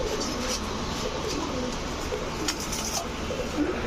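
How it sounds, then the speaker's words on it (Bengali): Soft, low cooing of pigeons repeats against a steady background hum, fairly quiet and close by. "এরপরে দেখাবো পাঙ্খি একটা মাদি কবুতর"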